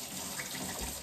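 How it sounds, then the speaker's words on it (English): Tap water runs steadily into a sink while a cup is washed out, a continuous close splashing gush that lasts only about a second. "Melissa, you gotta wash that out."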